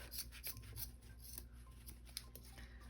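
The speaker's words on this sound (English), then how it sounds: "I'm going to cut the tails a little bit, well, a good bit shorter." Scissors snip through fabric bow tails in quick repeated cuts, close and quiet, a run of soft crisp snips against a faint room hum.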